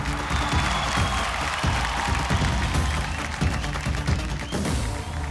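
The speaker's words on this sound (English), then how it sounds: "A big round of applause for the talented superstar herself" A large audience applauding at a Mumbai film event for the movie RRR, sustained dense clapping with cheering mixed in, loud and continuous throughout.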